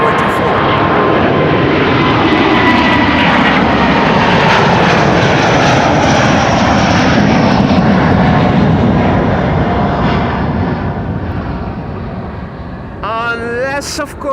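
At Amsterdam Schiphol Airport, a loud, steady jet engine roar comes from an airliner bound for Johannesburg as it taxis to cross a runway. The roar holds close for the whole span and eases slightly near the end.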